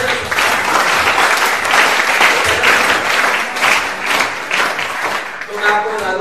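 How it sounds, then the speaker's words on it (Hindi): Dense audience applause fills a student seminar hall for several seconds, steady and close, with a brief voice surfacing near the end. "तालियां"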